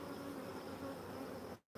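Honeybees buzz thickly at a hive holding a swarm, a dense, steady hum of many wings up close that runs without a break before cutting off abruptly near the end.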